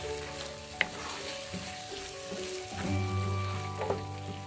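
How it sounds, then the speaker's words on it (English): Onion and tomato gravy for shahi paneer sizzles and fries steadily in a pan, with occasional stirring scrapes and a sharp clink, all close and fairly loud with no talking. "now we need to roast this gravy really nicely until it starts leaving the oil on the sides"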